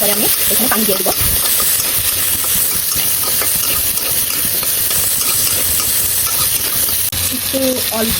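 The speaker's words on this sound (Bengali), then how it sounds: "আলুটা ভেজে নেব" Potatoes fry in a pan after the fish has been lifted out, giving a steady, close sizzling hiss throughout, with a few utensil clinks and stirs near the start and end.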